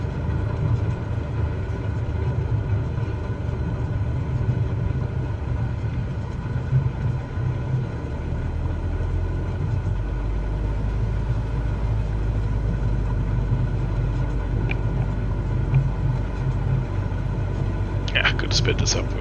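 A light general-aviation aircraft taxiing in Flight Simulator 2020 at Hervey Bay produces a constant engine drone and low rumble, with a faint click near the end.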